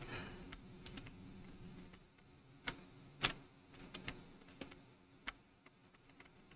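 Someone types on a computer keyboard one key at a time, giving sparse, irregular clicks with one sharper, louder tap near the middle, close by and fairly quiet, with no talking.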